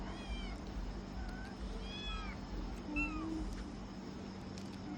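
Several cats meowing in short, overlapping calls over a low background hum, fairly quiet and a little distant.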